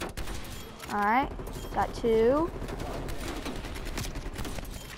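Sniper rifle fire from the LW3-Tundra in Call of Duty, shooting through a wall: sharp, broadband shots burst repeatedly through busy game noise while someone talks over them.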